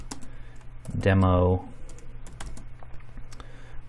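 Scattered clicks of typing on a computer keyboard come as irregular sharp taps before and after someone briefly speaks a word, the keystrokes fairly close and light.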